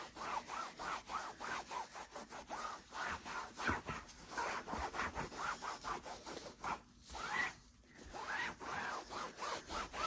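Rhythmic back-and-forth scrubbing of a white fabric chair's upholstery, a steady brisk rubbing with short strokes that continue almost without pause, close up and fairly loud, briefly dropping out once partway through.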